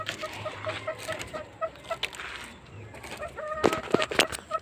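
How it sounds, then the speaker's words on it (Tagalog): A hen in a backyard flock clucks in short repeated bursts, close and moderately loud, with a few sharper calls near the end and no talking. "Gandang inahin."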